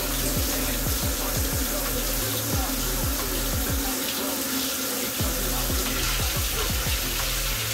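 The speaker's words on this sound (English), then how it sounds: "I'm going to wash this little bit of dishes" Running tap water pours steadily into a kitchen sink while a small load of dishes is washed, with repeated clinks and knocks of dishware close by under the constant hiss.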